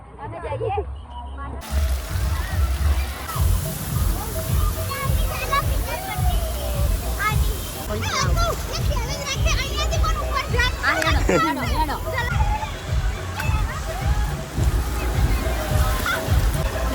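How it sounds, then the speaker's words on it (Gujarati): Wave pool water at a crowded water park sloshing and splashing continuously, with children shouting and playing nearby and people talking over the steady rush. "ગાઈઝ અહીંયા મોજા ચાલુ થયા છે"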